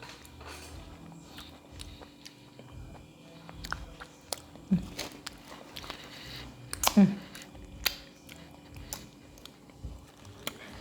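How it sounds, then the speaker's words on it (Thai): Someone eats durian up close. Soft wet chewing and squishy bites come in irregular bursts, with a couple of louder crunchy bites, and occasional vocal sounds are mixed in. "กินทุเรียนมันเปื่อน"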